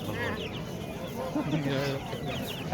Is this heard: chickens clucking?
yes